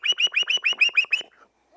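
An ancient American clay whistle imitates a female hawk's call: seven sharp, shrill descending notes in quick even succession, then a faint trailing tone, close and clear.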